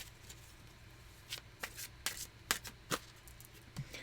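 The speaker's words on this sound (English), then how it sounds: "I'm going to pull another one from this deck." Tarot cards being shuffled and drawn from a deck, soft rapid riffling and flicking sounds in a quiet room, growing more active partway through with a few sharper card snaps.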